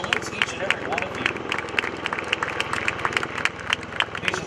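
An airshow crowd claps for a Marine Corps salute, a steady patter of many hands from a distance while someone talks over a loudspeaker.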